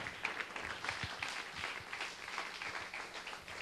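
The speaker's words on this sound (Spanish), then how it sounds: "¿Cuántos aplauden su nombre?" Church congregation claps during a Spanish-language sermon, a short burst of dense, fairly loud applause lasting a few seconds.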